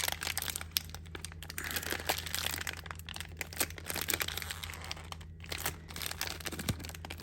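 Plastic packaging of a Jurassic World toy egg case crinkles and crackles in irregular bursts close by, with scattered sharp snaps over a steady low hum.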